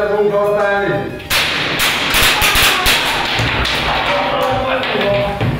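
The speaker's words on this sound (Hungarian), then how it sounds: "A lövések jelentették az incidens végét" Gunshots ring out during a violent pub brawl, a series of sharp cracks and thuds in quick succession after a shouted exchange, loud and close amid agitated voices and commotion.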